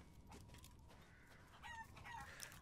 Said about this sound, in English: Oh, this is where the poultry is.